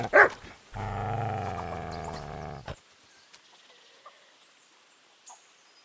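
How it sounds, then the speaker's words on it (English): A dog in the medieval game Kingdom Come Deliverance II gives a short sharp yelp, then a low sustained growl for a couple of seconds, followed by quiet game ambience with faint scattered noises. "That's how you deal with a dog"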